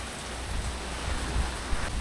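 Heavy rain falls during a typhoon, a dense, steady hiss of downpour with a low rumbling undertone, continuous and unbroken, with no voices.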